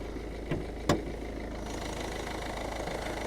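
A Volvo with a Ford 1.6 engine idles cold with a steady low rumble and faint rattle, broken early by two sharp clicks.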